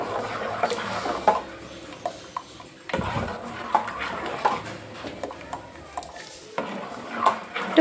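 A spoon stirs a sabudana mixture cooking in a pot, giving repeated scraping clinks and knocks against the metal in an uneven rhythm, close and moderately loud with no talk.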